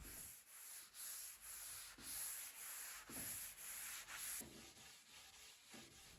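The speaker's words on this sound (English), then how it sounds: "giving it a sand with a 320 grit sanding sponge" A 320 grit sanding sponge rubs over a dried shellac coat on a burned, scratched teak coffee table, in steady back-and-forth strokes with a soft, even hiss and a regular rhythm, close and alone.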